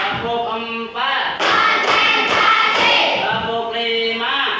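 A class of sixth-grade pupils claps a patterned rhythm on command, several sharp loud bursts of group clapping cutting in over the classroom, with a teacher's voice before and after.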